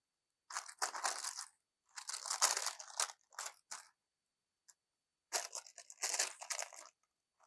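Pressed, fused fabric pieces peeled apart for an acorn collage quilt, giving close, crisp crinkling and tearing rustles in several short bursts separated by silent pauses.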